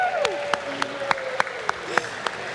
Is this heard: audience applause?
yes